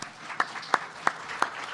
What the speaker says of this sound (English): a big round of applause to our panelists